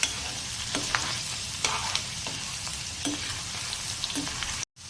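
Stuffed okra (bharela bhinda) frying in hot oil in a pan while being stirred, a steady sizzle broken by repeated soft scrapes and clinks of the spoon, close and fairly quiet.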